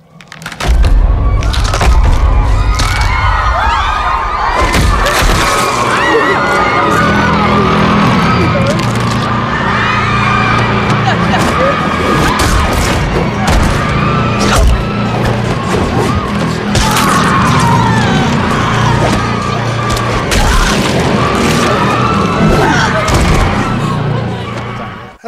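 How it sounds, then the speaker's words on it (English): Violent scene from the horror film Malignant, with dense crunching, cracking impacts of pulpy bones breaking and women screaming, loud and continuous, layered over a low rumbling score. "it was just the sounds of pulpy bones breaking and women screaming"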